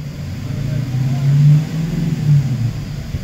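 A car engine runs at a steady low rumble, rising in two smooth revving swells as it works through the gears while warming up, loud and close throughout.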